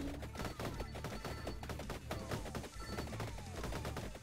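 A rapid-fire weapon in Vampire Survivors rattles off a fast, steady stream of sharp shots, continuous and evenly paced over dense game sounds.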